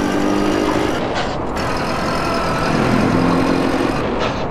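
A van engine drones steadily and loudly while driving in GTA San Andreas, a dense rumbling road noise with faint brake-like hisses, and no voices over it.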